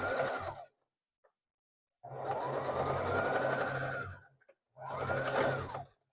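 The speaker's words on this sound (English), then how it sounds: "that should make the sewing machine softer" A sewing machine whirs steadily in two bursts, a longer run followed by a shorter one, with brief quiet gaps between them.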